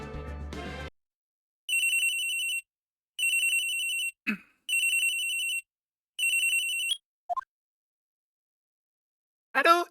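A telephone in the Phoenix Wright: Ace Attorney video game rings in four evenly spaced electronic bursts, clear and isolated, with short game blips between them and a brief sound at the end.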